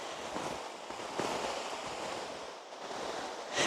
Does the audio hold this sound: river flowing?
yes